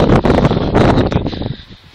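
Strong wind buffets the roof of a church tower, roaring in loud gusts against the microphone and then easing.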